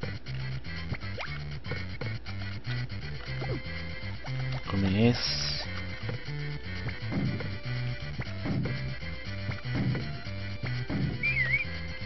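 A horse in the farming video game Harvest Moon lets out a single distinct neigh midway, set against looping game music and a voice talking over it.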